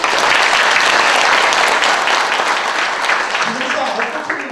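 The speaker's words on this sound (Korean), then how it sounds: "네, 큰 박수 좀 부탁드립니다." Sustained, loud applause from an audience at a Korean history and culture institute's founding ceremony in Yangsan, dense clapping filling the space and slowly tapering off.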